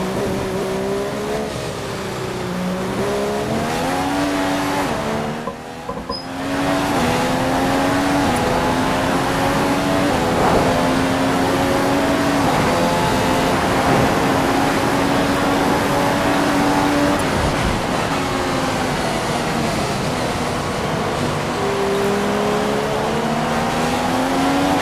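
Race car engine from a racing video game at the Japan circuit on a flying lap, loud and continuous with rising and falling revs through gear changes and a brief dip near the start, heard alone without talk.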